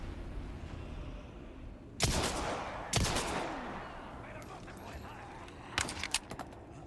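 Shotgun shots in Resident Evil 4 (2023) played in PSVR2, three loud booming blasts spaced apart, each with a long ringing decay, followed by a quick cluster of sharper reports, close and distinct over a low background hum.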